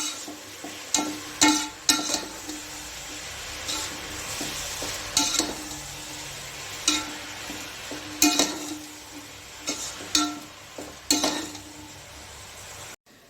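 Salted masala for chicken biryani frying in a pan, with a steady sizzle broken by rhythmic scraping stirs and utensil knocks against the pot, close up and without voices.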